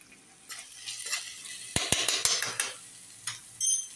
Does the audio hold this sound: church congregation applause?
no